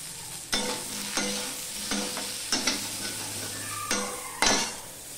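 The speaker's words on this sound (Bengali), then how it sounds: "কেটে রাখা ছিমগুলো আমি ভেজে নেব অল্প তেলে" Chopped flat beans fry in a little oil with a low sizzle, while a utensil scrapes and clinks against the pan in about six distinct stirring strokes, close up and without speech.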